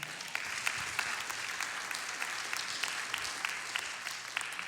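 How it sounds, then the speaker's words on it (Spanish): Steady applause from a church congregation, many hands clapping in a continuous fairly quiet wash with a few sharper nearby claps standing out. "Dan un aplauso al Señor."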